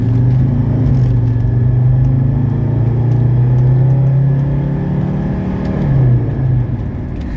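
A 1985 Mercedes 300SD diesel engine runs at operating temperature while parked, a loud, steady low rumble close by, rising slightly in pitch near the end as if lightly revved.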